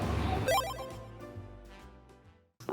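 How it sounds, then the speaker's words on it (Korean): A phone rings with an incoming call, a melodic ringtone with a descending tonal run that fades out before a sudden noise at the end, fairly faint. "촬영하려고 카메라 다 켜고 있는데 갑자기 전화 왔어요"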